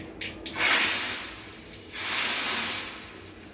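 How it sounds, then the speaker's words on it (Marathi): Hot spiced oil tempering with turmeric hits boiled saar and bursts into a loud hissing sizzle, two strong surges a second or so apart before fading back down. "हा जो आवाज आहे ह्याच्यामुळे तुमची फोडणी साराला खूप सुंदर बसते"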